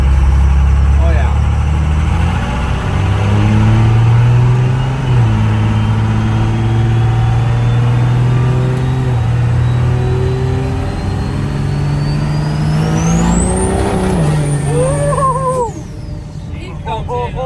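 A Cummins-powered burnout truck engine running on nitrous, loud and close, rumbling then revving up in steady climbs, with a high rising whine near the end as revs peak and drop.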